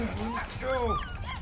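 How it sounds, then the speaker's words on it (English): Puppies whimper and yip in Marvel's Guardians of the Galaxy video game, a few short high-pitched whines close by, mixed with game dialogue and soft background sound. "Wow, puppies."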